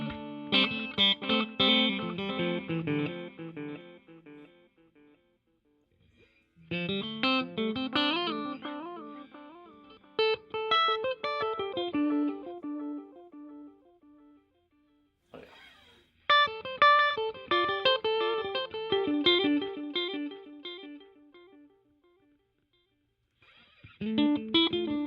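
Electric guitar played through a Donner delay and reverb pedal, phrases ringing out with distinct echoing repeats and a reverberant tail, separated by brief pauses, loud and close with no talking.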